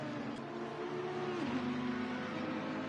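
A race car lapping Watkins Glen in a racing video game drones steadily at moderate distance, its engine tone holding then dipping in pitch midway as it shifts or lifts, continuous with no talk.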